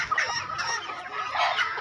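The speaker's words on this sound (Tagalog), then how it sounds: "Papakain tayo dito ng ating mga alagang manok" Pet chickens at feeding time on a farm, a close flurry of overlapping clucks and squawking calls with a honking, goose-like edge, steady and loud.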